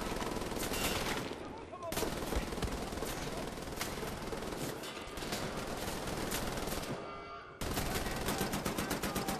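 Turret machine gun in the video game Wolfenstein The New Order, loud rapid continuous bursts with brief gaps and a sharp fresh burst near the end, heavy and close.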